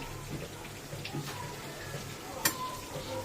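Meat being braised and sautéed in a pan gives off a faint, steady sizzle, broken by light stirring scrapes and one sharp utensil clink against the pan.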